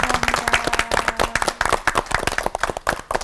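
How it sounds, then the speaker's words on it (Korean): A TV talk-show studio audience claps warmly for three pastors, a brisk, close burst of many hands with distinct individual claps, sustained the whole time. "오늘 굉장히 은혜스러우면서도 굉장히 솔직한 토크를 또 나눠주신 세 분의 목사님께 뜨거운 박수 부탁드립니다."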